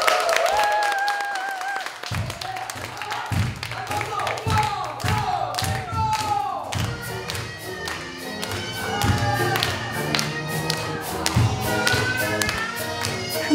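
Concert audience clapping at a Chuseok wish concert of traditional Korean blessing music. Rhythmic, steady claps beat in time alongside voices and music.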